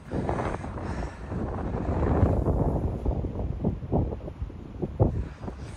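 Strong wind gusts buffet the microphone on a walking trail near a bridge closed because of the weather, a rough rumbling roar that swells and fades in uneven bursts.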